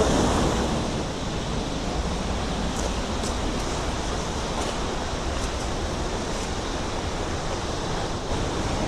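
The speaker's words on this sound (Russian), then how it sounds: "Водопад, по-моему, Султан называется. Красивый, мощный." The Sultan waterfall near Elbrus in the mountains gives off a powerful, steady roar of rushing water, loud and close, with no pauses and no voices.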